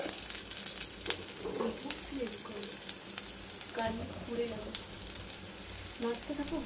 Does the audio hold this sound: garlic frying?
yes